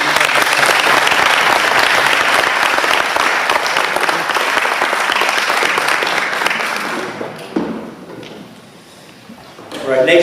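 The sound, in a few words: applause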